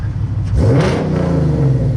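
A Lexus RC F fitted with an RES titanium exhaust revs hard near the microphone. The engine climbs to a loud, raspy roar and holds there, with no talk over it.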